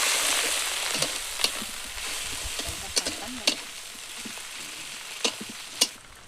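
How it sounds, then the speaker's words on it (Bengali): Fish fat sizzles steadily in a hot pan, a continuous close frying hiss broken by occasional sharp pops and spatters, with no talking over it. "ওই যে মাছের যে তেলটা ছিল, বলছিলাম যে চর্বি হয়েছে, সেই চর্বিটুকু দিলাম ভাজায়"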